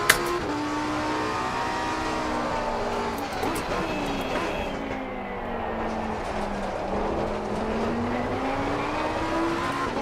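Mustang race car in Assetto Corsa Competizione roaring at high revs with a steady, sweeping engine tone that rises and dips through gear changes, loud and close throughout, with faint tire noise.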